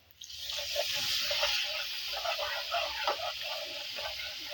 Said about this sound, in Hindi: हल्का सा पानी।